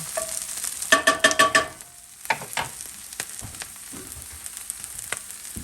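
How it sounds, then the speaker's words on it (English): Homemade breakfast sausage from the freezer sizzling in a pan, a burst of scraping clatter at the start, then a bright crackling fry with intermittent spits and pops, close and fairly loud, no talking. "I'm going to add some breakfast sausage that we had from in the freezer"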